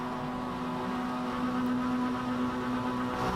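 Mazda MX-5 race cars sit on the starting grid at Watkins Glen in the iRacing game, their engines producing a steady, continuous droning hum with a constant tone, loud and uninterrupted with no talk.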